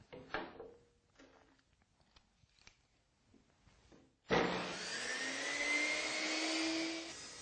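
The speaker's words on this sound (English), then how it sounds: "I'm ready to make this cut" A few light knocks and handling sounds of wood being positioned come first. Then a table saw starts and cuts through the wood with a loud, sustained whirring whine that holds steady for several seconds nearby.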